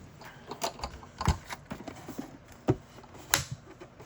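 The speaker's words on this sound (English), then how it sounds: "let me get my machine out." Crafting die-cutting machine being set up for card making, giving off scattered plastic clicks, taps and light mechanical clacks at close range, with a few sharper knocks standing out among softer handling noises.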